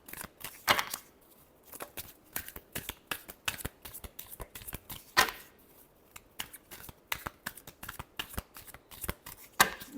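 Tarot cards riffled and shuffled by hand in quick, crisp bursts of papery flicks, close and fairly quiet, with brief pauses between runs and no talking.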